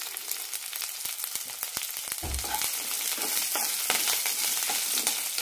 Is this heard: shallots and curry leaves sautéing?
yes